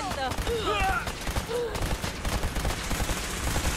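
Rapid bursts of machine gun fire from a combat scene in the game Fallout 4, loud and continuous, with the shots layered over synthetic whooshing effects.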